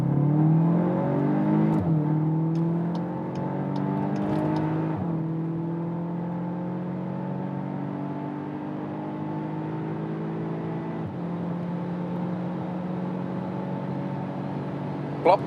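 VW Arteon R Shooting Brake with 320 horsepower accelerating hard on the German Autobahn, heard from inside the cabin: a steady engine note climbing repeatedly through the gears, with brief pauses at each shift.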